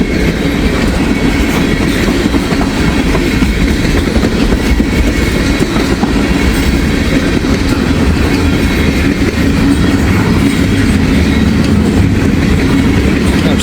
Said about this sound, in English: That's a good train here.